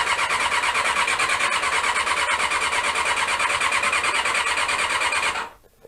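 A Honda CB-1 motorcycle left standing too long cranks without firing: a steady, fast whirring starter churn runs for about five seconds close by, then cuts off into near silence.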